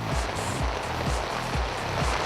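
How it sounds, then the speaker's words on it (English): Rain falls steadily on an outdoor film set, a dense, even patter with soft periodic thuds underneath, no voices. "Raining."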